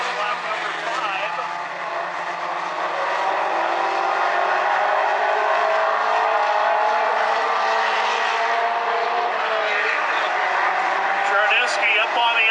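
Mini stock race cars roar together around South Sound Speedway during a heat race, a steady loud engine drone with cars running side by side, under continuous announcer commentary.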